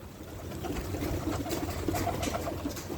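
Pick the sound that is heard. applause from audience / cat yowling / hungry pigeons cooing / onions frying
hungry pigeons cooing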